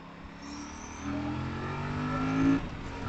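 An Aprilia RS 457 with a 457cc parallel-twin engine accelerates hard in second gear, its close, loud engine note climbing steadily in pitch before dropping off near the end.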